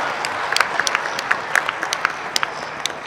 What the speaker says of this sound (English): We would like to thank him with a big clap for his.